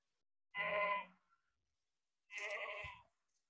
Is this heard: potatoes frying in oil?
no